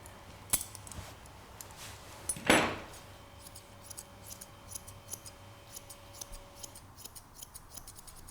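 Curved grooming scissors snip through a Bichon Frisé's coat during a show trim, giving one sharp close cut followed by a string of faint, irregular small clicks and snips.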